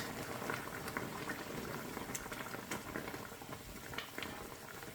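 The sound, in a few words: water boiling in covered pot cooking thin beef ribs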